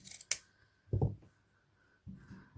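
Scissors snipping through a layer of ribbon for a boutique hair bow: a sharp close snip, then a quieter soft cut a moment later and another toward the end, with silence in between.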